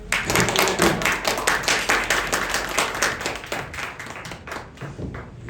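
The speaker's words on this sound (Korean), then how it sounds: "우리 선교사님 나오실 때 우리 박수로 환영하겠습니다." A church congregation claps in welcome at a Sunday worship service, the applause loud and rhythmic at first, then gradually thinning and fading toward the end.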